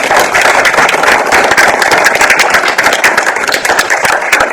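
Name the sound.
audience applause for photographer Jonathan Malek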